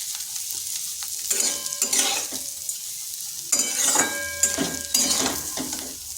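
Sliced onions fry with bitter gourd in a hot pan, giving a steady sizzle broken by bursts of scraping and stirring, close and clear, with no talking.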